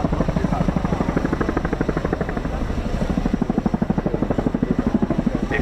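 An RAF Chinook helicopter hovers while lifting an underslung quad bike at an air show, its rotor producing a loud, continuous rhythmic thudding throughout.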